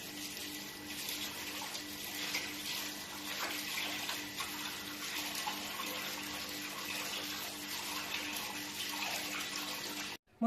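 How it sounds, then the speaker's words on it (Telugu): Chicken being washed under a running kitchen tap, a steady close stream of water splashing continuously for about ten seconds, then cutting off abruptly. "ఇప్పుడు చికెన్ ని కడుక్కుందాం."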